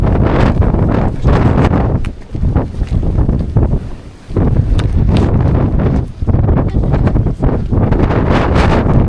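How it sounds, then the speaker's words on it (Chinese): Strong gusting wind roars across the exposed clifftop of Preikestolen in Norway, buffeting the microphone in loud, continuous blasts that ease briefly a few times before surging again, with no voices heard. "不能这边风很大的"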